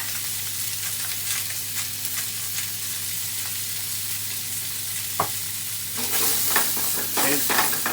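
Onions fry in steak juices in a pan with a constant close sizzle and crackle, a sharp clank partway through, and a louder burst of spitting near the end as the pan is shaken.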